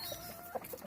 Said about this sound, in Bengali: অনেক সুন্দর হয়েছে মুরগিগুলো।